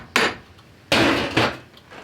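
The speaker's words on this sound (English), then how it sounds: "hammering that flat surface on there will give us a place when we drive the hook into the post to hit with the hammer" A blacksmith strikes a hot metal hook with a hammer, flattening a spot on it: three loud, ringing blows spaced unevenly, close by, with no talking.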